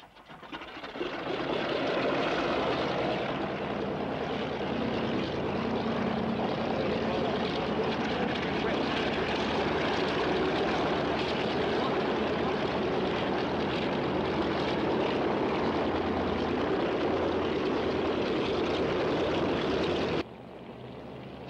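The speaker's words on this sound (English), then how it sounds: "And starting the engine." A flying boat's propeller aircraft engine starts up, then runs as a loud, steady droning roar for about twenty seconds before dropping off abruptly near the end; no talk is heard over it.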